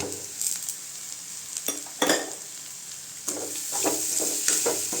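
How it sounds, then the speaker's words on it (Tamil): Grated coconut and ridge gourd peel sautéing in a pan for chutney, a steady sizzle with repeated scraping stirs of a spoon against the pan, close and clear with no talking. "தேங்காயும் கொஞ்சம் நேரம் வதக்கி விட்டுக்கலாங்க."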